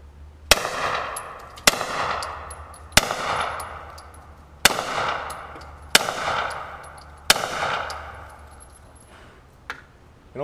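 A .40 caliber Hi Point carbine fires six sharp shots at an irregular pace outdoors, each crack followed by a ringing echo that fades, then a fainter metallic click near the end.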